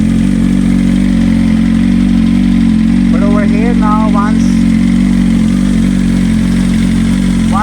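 A BMW M1000RR motorcycle engine idles loud and close with a deep, steady rumble, the revs settling down while someone talks over it.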